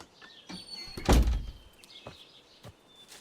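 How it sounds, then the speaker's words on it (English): A door closing in a classroom, a single solid thunk with a brief rattle, preceded by faint sliding sounds and followed by a few light knocks. "Now close the door, please."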